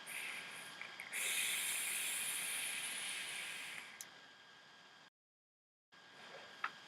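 A vape draw through a Tobh clone atomizer fitted with a dual 28 gauge parallel coil at 0.4 ohms, airflow fully open: a steady airy hiss lasting about three seconds, fairly close, then a brief silence and a fainter trailing breath.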